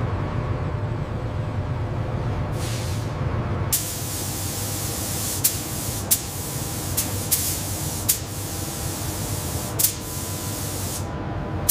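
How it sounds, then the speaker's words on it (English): Robotic arm spraying white PVC sealer onto the panel seams and joints of a Toyota Camry in a factory, a continuous close hiss of spray with occasional sharp clicks over a steady industrial hum. "The robotic arm applies white PVC sealer to the Camry's panel seams and joints."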